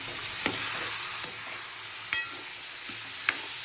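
Toor beans (pigeon peas) are stirred into a sizzling frying pan, a continuous hiss of frying broken by four or five distinct, regularly spaced spoon scrapes and clinks against the pan, close by.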